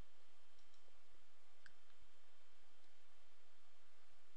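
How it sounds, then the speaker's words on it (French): A single faint, brief mouse click sounds against a quiet background hiss while someone works in Nuke Studio compositing software. "et on clique sur OK"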